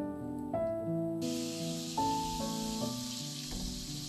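Onion pieces fry in a pan for a Goan chicken green curry while being stirred, making a soft, steady hiss that is partly masked by melodic background music playing over it.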